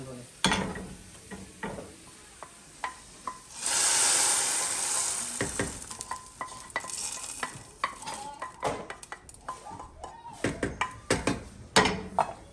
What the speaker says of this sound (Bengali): এই তেলে আবার এখন মরিচ পোড়া দিব